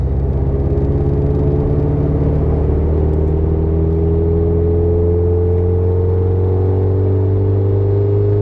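A Racingline-tuned 520 hp VW Golf R Mk7 with a big turbo accelerates in gear, its loud, steady engine drone climbing slowly in pitch as the revs build, heard from close inside the car with no voices.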